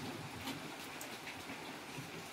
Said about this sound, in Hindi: इतने देर में बारिश भी आ गई